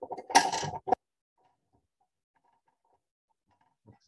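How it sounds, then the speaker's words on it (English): A short burst of creaking and ratcheting as shaft collars are tightened on a Vex bevel gear assembly, about one second long and close up, followed by near silence and a faint tap at the end. "I'm going to go ahead and tighten these shaft collars down"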